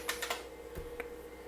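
Keys clatter on an IBM PC 5150 keyboard, a short burst of crisp, close keystrokes with a few spaced taps over a faint steady hum.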